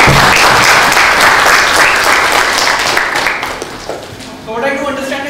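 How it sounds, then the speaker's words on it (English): Loud, close audience applause at a startup pitch event, dense clapping through most of the span that thins near the end as a voice comes in. "A big hand of applause."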